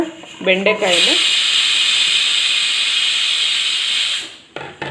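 Okra hitting hot oil in a pan over a high flame gives a loud, sustained sizzling hiss for about three seconds, which then tapers off, with brief kitchen clatter at the start and near the end.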